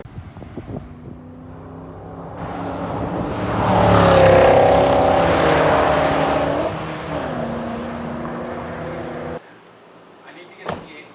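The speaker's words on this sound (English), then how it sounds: "I want to hear the M5 without exhaust." A BMW E39 540i V8 running with long-tube headers and no exhaust, a loud open rumble swelling into a roar mid-clip and settling before cutting off abruptly, with a brief clatter at the end.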